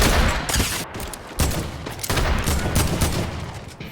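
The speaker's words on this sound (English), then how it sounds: "there's actually there's someone else shooting" Gunfire from another player in a video game: dense, rapid bursts of shots that run almost continuously, loud and close, with a few short gaps and no talking.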